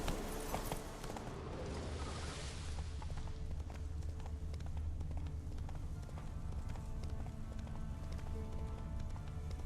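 Hoofbeats of the horse Roach galloping in The Witcher 3 video game, a steady rapid clip-clop rhythm running throughout, close and fairly loud over a low rumbling background.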